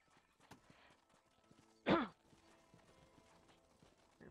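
Horse hooves clip-clop faintly and sparsely while riding in Red Dead Redemption, with one louder snort or whinny burst near the middle, all quiet and close with no voices.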